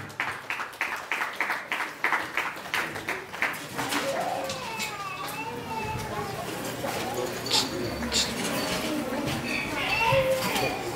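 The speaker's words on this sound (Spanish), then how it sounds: "vamos a pedir fuertes y calurosos aplausos por allá a la quinceañera" Guests at a quinceañera celebration clap in a rhythmic burst for the girl's coronation, then the clapping gives way to a murmur of crowd chatter, children's voices and room noise.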